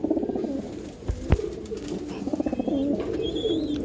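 Racing pigeons, a master breeding pair, coo in soft repeated bursts close by, with a few brief thumps and a faint whistle in the background.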